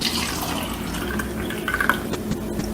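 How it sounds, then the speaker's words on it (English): Tap water running over fresh produce in a sink, a steady close gush of flowing water with small splashes and drips as fruit and vegetables are rinsed. "we're going to show you what comes off your produce, your fruits, your vegetables when you wash them off with regular tap water."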